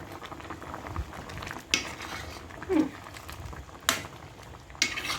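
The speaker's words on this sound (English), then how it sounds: "Let's stir that in." A spoon stirs white soup (ofe nsala) in a cooking pot, giving soft bubbling and a few sharp scrapes and clinks against the pot, fairly quiet and close.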